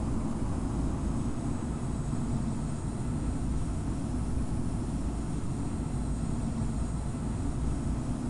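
Airbus A321 engines roar at takeoff in Infinite Flight, a dense, steady and loud rumble that holds unchanged throughout with no voices.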